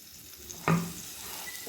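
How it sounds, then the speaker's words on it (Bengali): A brief sizzling burst rises as spices (ginger, green and dry chillies, cumin, coriander, fennel) hit a dry pan for roasting, a single short crackle near the start that fades to a soft, low hiss. "শুকনো খোলাতে ভেজে নেব ভেজে গুঁড়ো করে নেব"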